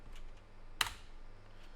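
A single sharp keystroke on a computer keyboard while a password is typed, one quick close click standing alone against a faint room hum.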